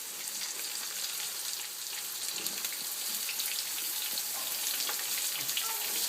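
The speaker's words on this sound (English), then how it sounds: "So I put it in bowl and fry in oil." Aubergine frying in oil, a dense, even hiss of sizzling that carries on without a break for several seconds, close and fairly loud, no voices.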